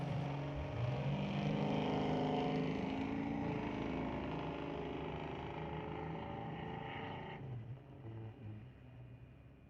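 Drag racing engines of a Ford Mustang and an S10 Blazer at a Lordco Auto Parts Smoke Fire and Thunder event, a loud sustained roar fading as the cars pull away, no talk.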